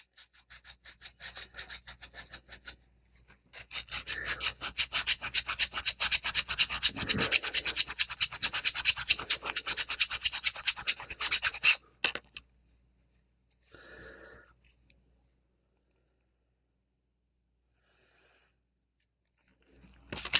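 Hand sanding of a 3D-printed PLA part with low-grit sandpaper, a steady rasping scratch of rapid strokes that runs for about eight seconds, then stops, with a brief burst of rubbing later and a short one at the end.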